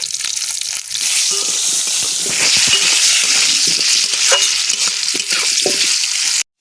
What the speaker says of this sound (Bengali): আলুটাকে ভেজে নেব। আলু ভেজে নেওয়ার জন্য আলুতে দিয়ে দেব লবণ, আর দেব হলুদ গুঁড়ো।